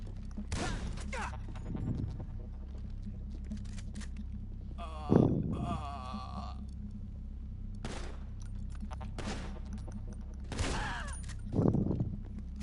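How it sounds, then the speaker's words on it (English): Gunshots in GTA 5 Online, a few sharp separate shots spread across the stretch over a low steady game background, with brief speech in places. "I'm gonna shoot him once"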